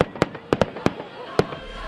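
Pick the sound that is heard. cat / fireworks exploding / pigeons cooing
fireworks exploding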